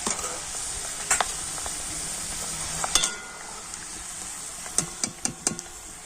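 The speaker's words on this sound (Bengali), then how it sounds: "বাদাম দিয়ে কখন ভাজা হয়ে গেছে বুঝবেন" Peanuts fry in hot oil until their skins crack, giving a steady soft sizzle throughout, broken by a few sharp clicks and knocks from stirring, close and without talk.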